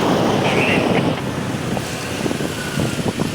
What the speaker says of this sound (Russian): Но с ветром.